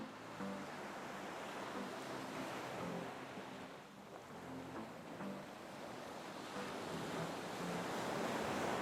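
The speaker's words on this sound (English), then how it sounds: "Now I'm at a place called Black's Beach, which is another popular surf spot." Ocean surf rolling in at Black's Beach, a surf spot below massive cliffs in California: a steady, broad wash of breaking waves with gusty wind buffeting the microphone, continuous and fairly close, with no voices.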